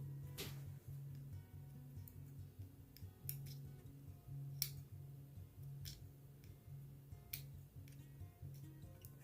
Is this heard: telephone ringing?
no